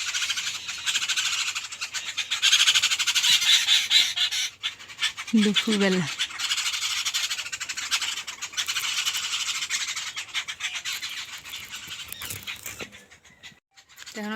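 Squawks from two parrots fill a home garden in the early afternoon, a dense, loud run of bird calls that continues through the whole stretch, with a brief spoken word near the start.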